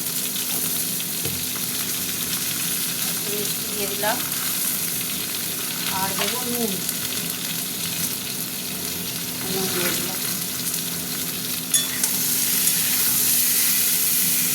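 Eggplant and potato pieces sizzle steadily in hot oil with turmeric for a hilsa curry, a spoon scraping and stirring now and then, while someone talks over the frying.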